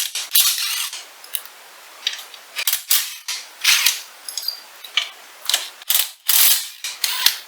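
Sharp clicking of a 12mm socket ratchet working bolts off a Yamaha YFZ450R ATV front bumper, bursts of close mechanical ratcheting separated by brief pauses.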